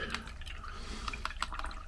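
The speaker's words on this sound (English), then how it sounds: "I want to clean this brush" A watercolor paintbrush swished and rinsed in a water jar, with soft sloshing and several small, distinct drips and splashes close to the microphone, no voices.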